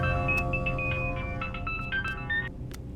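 A mobile phone ringtone for an incoming call plays alone as a steady electronic melody of repeating tones, fairly loud and close, with no voices over it.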